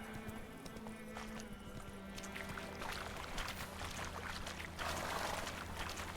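Horse hooves clip-clop steadily on the move in the open-world fantasy game The Witcher 3, a fairly continuous rhythmic patter at moderate distance over ambient game sound and light splashing.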